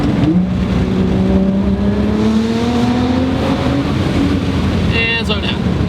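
A 600 HP Nissan R35 GTR pulls hard from a launch, its engine note climbing steadily in pitch as it accelerates, loud and close over heavy road and wind roar, with a brief higher whine near the end.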